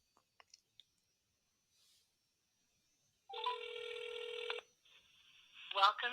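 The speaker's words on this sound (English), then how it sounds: "So here I'll be directly calling on my phone." A phone call is placed: a few faint clicks of dialing, then a loud, steady ringback tone pulses for about a second, pauses, and a recorded voice begins answering.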